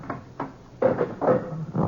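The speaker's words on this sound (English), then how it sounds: "I opened the back door." A back door opens in a radio drama sound effect, with a few soft knocks and a creaking, thumping movement, heard close and alone with no talk.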